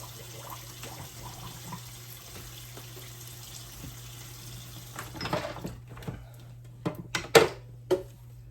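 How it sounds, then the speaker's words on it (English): A low steady hum runs throughout, then tap water splashes and clatters into a kitchen sink near the end with a few sharp knocks and trickles. "Let's put some more water."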